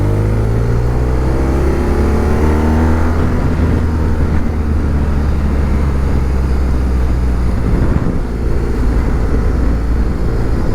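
A motorcycle engine pulling steadily in second gear on a country road, a loud continuous drone with wind rush that climbs in pitch as the bike accelerates, alone without talk.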